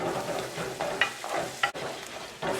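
Masala mushrooms sizzle in a pan over low heat, a steady frying hiss broken by a few scraping stirs, close and alone with no voices.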